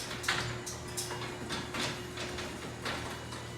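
An older garage door mechanism runs with a rough steady grind, punctuated by irregular rattling clacks and knocks spaced through the run, fairly close and with no talk.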